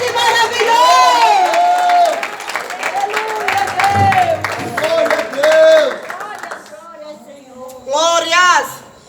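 A church congregation claps and cheers in worship, with loud crowd noise, whoops and singing or shouting voices layered over the clapping, dipping briefly before a final burst.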